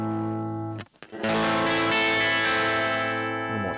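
Electric guitar played through a Marshall JTM1 head pushed to full volume with a boost pedal engaged, a loud, heavily crunchy distorted chord ringing out after a brief pause, sustained and dense.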